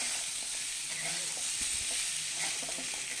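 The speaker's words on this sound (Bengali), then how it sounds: "এখন এটাকে আবার একটু সময় ভাজা ভাজা করব" Cauliflower frying with cumin and spices in a pan, a dense continuous sizzle close up with soft stirring scrapes and clicks throughout.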